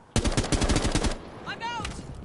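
Rapid automatic gunfire in Rainbow Six Siege, a loud close burst of about a dozen evenly spaced shots lasting about a second, followed by quieter game sounds and a brief tonal effect.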